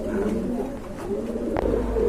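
A pair of pigeons at a market stall cooing close by, low throaty coos held for about two seconds with a brief knock midway.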